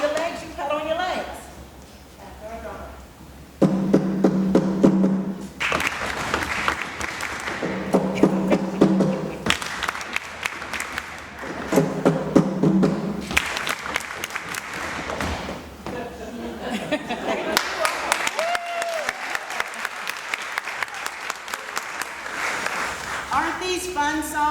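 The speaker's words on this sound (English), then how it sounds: "So if you want to do it with clapping your hands, you clap your hands. If you want to stomp your feet, you stomp your feet." An audience claps hands and stomps feet in time with a drummer, producing rhythmic bursts of thuds and claps that start and stop in sections, mixed with talking voices.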